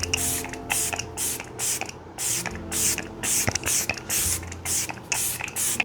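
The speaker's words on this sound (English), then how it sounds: "I'm going to use my Anastasia Beverly Hills Impeccable setting spray" An Anastasia Beverly Hills Impeccable setting spray fired in a quick series of about a dozen short, hissy mist bursts, close to the microphone and fairly soft.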